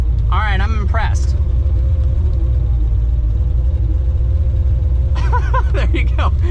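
A 1969 Mustang with an 815-horsepower V8 rumbles deep and steady while driving, a constant low growl under the whole stretch, with a voice talking over it near the start and end.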